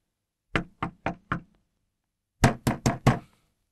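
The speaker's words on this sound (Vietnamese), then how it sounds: "Đừng đập ầm lên thế." Banging on a door: two bursts of four heavy knocks each, the second group louder, sharp and close with silence between, no talking.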